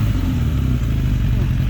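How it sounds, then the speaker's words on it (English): A lowered 2006 Suzuki Katana motorcycle engine runs with a deep, throaty low rumble, fairly loud and steady, with a voice talking over the engine. "Hey, rev it up a couple times."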